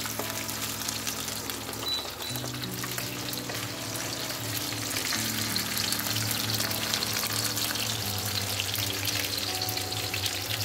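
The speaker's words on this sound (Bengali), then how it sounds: "এবারে ভেজে নেব আমি কাটলেটগুলো এইভাবেই" Chicken cutlets and french fries frying in hot oil, a continuous dense bubbling sizzle that holds steady throughout, fairly quiet and close with no voices.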